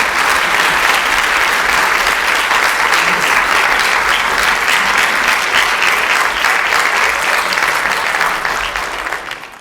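Warm audience applause welcoming a speaker to an evening library talk, a steady, full burst of clapping from a sizable crowd that holds loud for nearly ten seconds before starting to thin out at the end.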